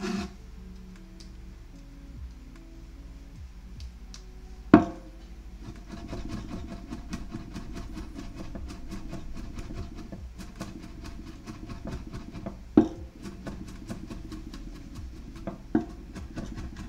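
A knife chops food on a wooden cutting board with quiet, scattered scraping and rubbing, broken by a few sharper knocks, faint and close in an otherwise quiet kitchen.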